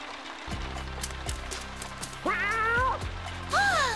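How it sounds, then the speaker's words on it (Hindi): A cat meows twice, a short wet-sounding mew and then a rising, drawn-out cry, heard over low background music. "उसे अपनी खिड़की पर एक बिल्ली दिखाई दी।"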